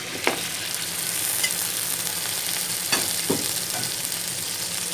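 Tender mutton pieces frying in a pot for mutton pulao, a continuous hiss of sizzling with a few spoon taps and scrapes at uneven intervals, no voices.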